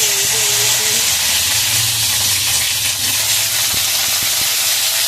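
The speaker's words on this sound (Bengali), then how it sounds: "ভেন্ডিগুলোকে ভাজবো লাল লাল করে" Okra frying in a pan gives off a steady, loud hiss and sizzle with no break, with faint low clinks of stirring underneath and no talking.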